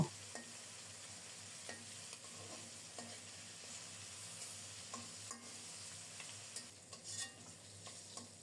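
Large prawns fry in hot oil with a soft, continuous sizzle and occasional scrapes of stirring, faint and close, with no talking.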